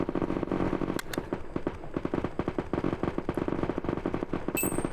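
Rapid gunfire and rocket barrages from the war game Frontline Logistics rattle continuously and densely, with sharp overlapping bursts and dull explosive thumps, loud and alone without any voices.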